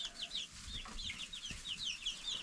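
Chickens and chicks in a homestead chicken coop, with repeated high chirps and soft clucks over a low background hum, a couple of brief knocks partway through, and no talking.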